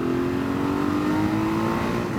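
A Honda Africa Twin 650 RD03 motorcycle engine pulls hard in second gear, a steady mid-pitched drone whose tone climbs gradually as it accelerates, loud and close throughout.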